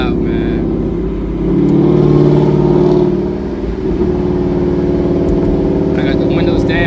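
Loud, rumbling exhaust of a 2015-2017 Mustang GT with a cat delete and Corsa Xtreme exhaust, heard from inside the car as it downshifts; the engine note swells and blips mid-clip, with occasional voices over it.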